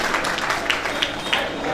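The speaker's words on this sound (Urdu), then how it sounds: "تھوڑا حوصلے سے تالیاں بجا دیں تاکہ میں یہ شعر حاضر کر سکوں۔" Applause from the audience at an Indian mushaira poetry gathering, a steady wash of many hands clapping with a few sharper claps standing out.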